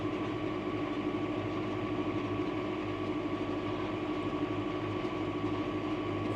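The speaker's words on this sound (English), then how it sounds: "the tractor's probably a bit overkill really, but I don't think the other tractor will pull the rollers on here" A tractor engine rumbles steadily while pulling rollers across a sloping field of winter barley, a continuous low drone with an even, unbroken level throughout.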